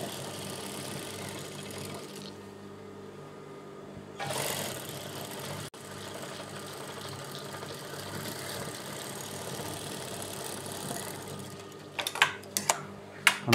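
A sewing machine stitching a lined churidar top, a steady close mechanical whir with a brief pause partway through, then a few sharp clicks and knocks at the end.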